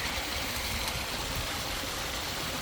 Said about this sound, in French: Petite cascade magnifique.